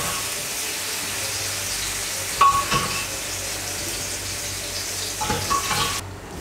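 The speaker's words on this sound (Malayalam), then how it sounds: "ഈ പരിപ്പ് നമ്മൾ വേവിച്ചുകൊണ്ടിരിക്കുന്ന പച്ചക്കറിയിലോട്ടേക്ക് ചേർക്കാം" Cooked dal is poured into simmering vegetables for a Kannur-style roasted-coconut sambar, giving a low bubbling simmer with two soft wet plops and stirring scrapes.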